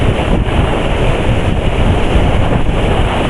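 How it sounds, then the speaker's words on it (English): Stormy ocean waves surge and break below a windy beach edge, a continuous loud roar of surf mixed with heavy wind buffeting the microphone throughout. "Now I can just see the waves down there."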